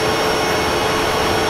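A small aircraft takes off, its engine a loud, steady broadband roar that fills the whole moment at a close, even level with no voices.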